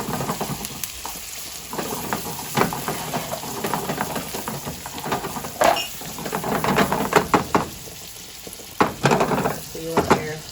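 Onions sautéing with fresh oregano in a hot pan, a steady close sizzle broken by scraping stirs and clinks of a utensil against the pan.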